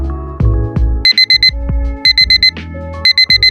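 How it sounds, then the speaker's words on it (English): Loud electronic timer alarm going off at a desk, three bursts of rapid high beeps about a second apart, with bumps and knocks of handling between them, no talk. "Well, there goes the timer."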